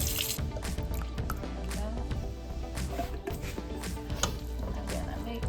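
A little water swished around inside an emptied four-cheese pasta sauce jar, a close sloshing and gurgling that continues with small splashes and clinks throughout.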